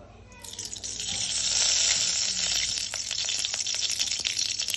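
Hot oil in a pan for tempering veg hakka noodles sizzles in a bright hiss that swells quickly, holds steady, then breaks into scattered crackles and pops, close and alone.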